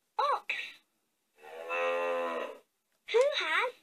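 A LeapFrog toy laptop plays a synthetic ox moo effect. A short electronic blip comes first, then one sustained low moo, then a closing chirpy jingle, all crisp and close.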